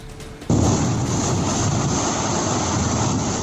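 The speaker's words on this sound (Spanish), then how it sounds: "Es la fuerza arrasadora del agua." Rushing floodwater from an overflowing river and creek in Pomasqui after an hour of heavy rain, a loud continuous roaring wash that surges in abruptly and holds steady without pause.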